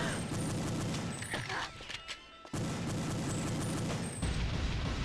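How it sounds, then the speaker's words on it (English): Flashbang grenade bursting in the Perfect Dark Kai mod of the game, a loud blast amid dense gunfire-like action, with a sharp drop to near-quiet ringing before the noisy combat sound returns. "Got the flashbang."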